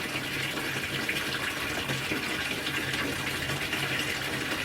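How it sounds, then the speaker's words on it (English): Water draining through a bell siphon in an aquaponic barrel system whose grow bed holds no media: a continuous, close gushing and rushing of water that stays steady throughout. "air has started to suck through, and eventually the siphon is broken with a big burp"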